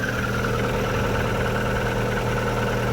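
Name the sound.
MG ZS car engine starting and idling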